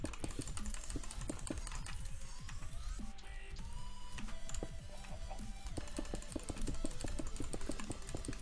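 Rapid clattering of a computer keyboard and mouse clicks, dense and continuous, close but quiet, with no one speaking.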